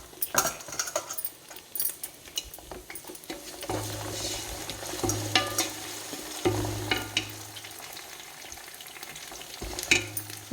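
Onions browned with chopped coriander sizzle and fry in a pan for chicken biryani, with a spoon stirring and scraping now and then, close and steady with no voices.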